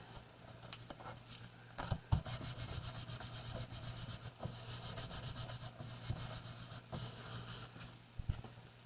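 Card stock for a handmade embossed card is trimmed to a fine border, giving a continuous soft rubbing, scraping cut with faint clicks, close and steady throughout.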